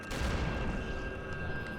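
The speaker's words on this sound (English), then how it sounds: "If you're in the middle of the explosion, it's very bad." Explosion in the 2002 video game Eternal Darkness, a dense, rumbling burst of game noise that stays loud and steady throughout, with no voices over it.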